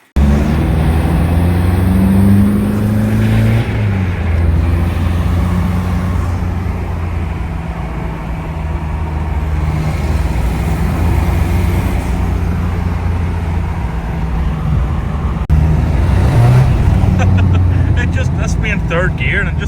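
A diesel rear-wheel-drive Ford Capri with a PD130 engine drives along, its steady low engine drone and road noise running continuously up close, with a brief rise in revs near the end and talk over the top.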